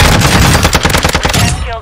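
Rapid automatic gunfire in Warzone 2, a loud, close stream of shots rattling steadily for nearly two seconds before cutting off.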